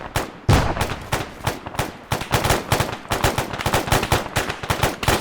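Sustained automatic gunfire in Arma 3 during a simulated Israel–Iran war battle, a dense rapid string of sharp loud shots with brief gaps, close and continuous.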